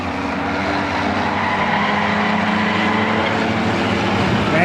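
A stock race car roars at speedway pace with a continuous loud engine drone as it slides sideways and scrubs off momentum, joined by other cars in the field.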